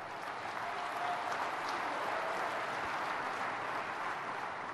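Sustained applause from a large conference audience at a SharePoint keynote, a steady, dense wash of clapping that holds evenly throughout at moderate distance, with no voices standing out.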